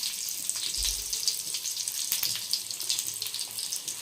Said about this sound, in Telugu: ఆయిల్ హీట్ ఎక్కింది కదా, ఇప్పుడు ఒకటి తర్వాత ఒకటి అన్నీ ఇందులో వేసేసుకోవాలి.